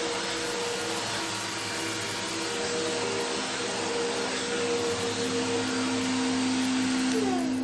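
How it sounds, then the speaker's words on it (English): A vacuum cleaner drones loudly and continuously close by, hoovering up ashes with a steady whine whose pitch shifts slightly near the end. "The first thing she did was hoover up the rest of Grandpa Joe's ashes."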